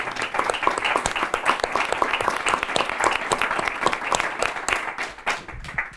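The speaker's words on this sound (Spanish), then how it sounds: "Me gustaría que les dierais un aplauso" An audience applauds four speakers at the close of a colloquium: dense, steady clapping from many hands that holds for several seconds, then thins and eases off near the end, with no voices over it.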